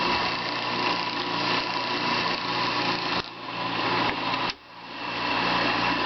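A Burgmaster 6-spindle drill tap machine runs a steady, whirring mechanical drone. There are two brief dips as the spindles engage or pause, and no voices.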